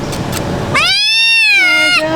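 A cat in Egypt, near the site of the temple of Bastet, lets out one loud, drawn-out meow after a moment of background noise, close and clear.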